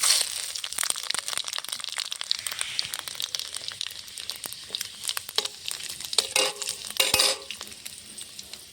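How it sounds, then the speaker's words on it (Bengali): A bay leaf and whole five-spice seeds hit hot oil in a kadai, crackling and sizzling close up with dense irregular pops and a few sharp spits and scrapes, no voices. "ফোড়নে দিয়ে দেবো একটা তেজপাতা, হাফ হাফ করে কটা গোটা পাঁচফোড়ন"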